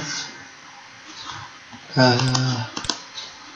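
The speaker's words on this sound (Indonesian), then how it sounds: "Jadi misalnya Anda ketik tanggal begini" Someone typing a date on a computer keyboard into an Excel spreadsheet, a quick cluster of close, crisp key clicks after a stretch of quiet room tone.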